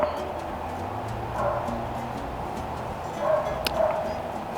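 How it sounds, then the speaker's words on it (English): Dogs yapping faintly in the distance, a few muffled barks rising over a steady background hum. "there have been dogs barking somewhere in the neighborhood non-stop"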